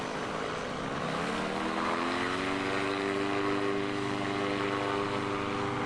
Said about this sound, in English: A pilot comes in for a touch and go.